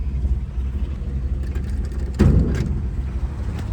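A 1960 Edsel Ranger sedan engine fires up, with a louder burst as it catches, then settles into a steady low idle rumble close by.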